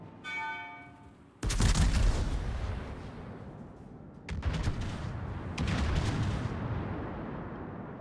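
Heavy battleship guns firing in a naval combat game against the Bismarck, booming salvos with long rumbling tails, one big blast followed by two more a few seconds apart.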